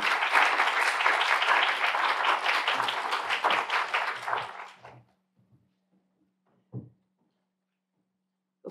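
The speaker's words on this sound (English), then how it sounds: "So please give an applause to Louise Mackenzie." Conference audience applause welcoming a roundtable speaker, a dense burst of clapping that fades out around five seconds, followed by near silence and a couple of isolated knocks.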